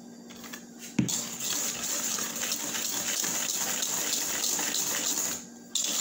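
A cup of milk is poured into chocolate cake batter: a steady, gushing liquid stream lasting several seconds, close and fairly loud, with a light knock at the start and no talking.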